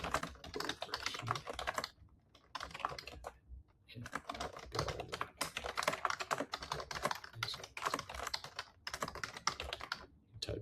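Close, rapid typing on a computer keyboard clatters in dense bursts with brief pauses between runs of keystrokes, continuing throughout at a steady, busy pace.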